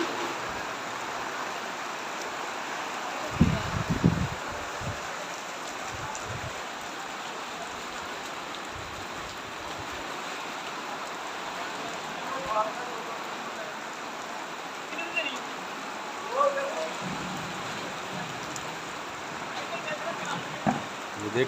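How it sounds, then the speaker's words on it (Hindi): Heavy rain pours steadily over a grain market in Alipur Chattha, where paddy stacks sit under tarpaulins; a constant dense hiss continues throughout, with someone talking over it and a few brief knocks. "ये देख रहे हैं आप, बहुत तेज़ बारिश है।"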